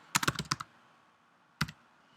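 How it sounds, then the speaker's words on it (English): Computer keyboard keys typed while entering Java code, a quick burst of several clicks followed by a pause and one more short cluster, close and crisp with no talk. "and then we'll type in hello world"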